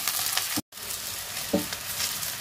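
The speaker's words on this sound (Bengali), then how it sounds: "এখন এটাকে আমি একেবারে সুন্দর ব্রাউন করে ভেজে নেব।" Garlic, torn bay leaf and whole dried red chillies frying in oil for a chicken kala bhuna tempering, a loud continuous sizzle with a brief cut and a couple of stirring scrapes.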